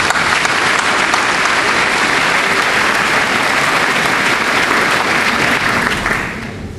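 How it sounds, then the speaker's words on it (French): An audience applauds steadily throughout a 2008 engineering diploma ceremony, a loud dense clapping that holds evenly before thinning slightly at the very end. "Et on peut l'applaudir en plus."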